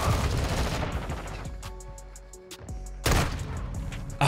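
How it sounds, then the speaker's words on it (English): Sniper rifle fire in Modern Warfare 2 amid dense gunfire: a loud crack and burst of shots, then a quieter gap with rapid distant ticking shots, before heavy firing resumes. "Ah, the sniper's shot."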